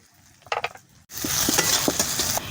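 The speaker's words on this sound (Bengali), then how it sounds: "পেঁয়াজটা দিয়ে দিচ্ছি পেঁয়াজটা বেশি ভাজবো না" Onion, ginger, garlic and green chillies frying, with a few quick stirring clatters before a loud, close sizzle bursts in and continues with occasional scrapes.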